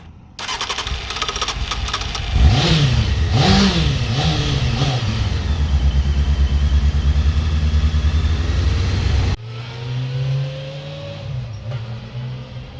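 A motorcycle engine starts with a whir, then revs up and down a few times before settling into a loud, steady idle. The sound is cut off abruptly, and a lower, rougher idle continues afterward.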